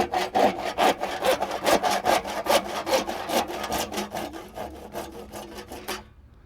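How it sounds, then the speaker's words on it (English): A handsaw cuts through a wooden post in quick, rhythmic strokes, each a loud, close rasping scrape, until the cutting stops abruptly near the end. "We're going to finish that off with a handsaw."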